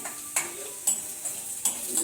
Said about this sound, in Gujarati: લસણ ને જીરાનો વઘાર કર્યો